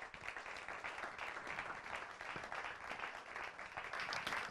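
A church audience welcomes a guest pastor with applause, a continuous even wash of clapping, fairly faint and distant, filling the whole stretch.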